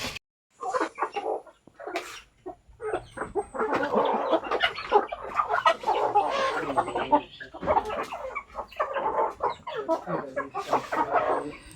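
Several hens cluck and cackle loudly after laying eggs, close and busy bursts of clucking in an uneven rhythm, with occasional voices in the background.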